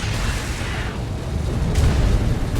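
Booming explosions from the video game Armored Core VI give a loud, rumbling burst of noise that swells again near the end, sounding close and heavy with no voices.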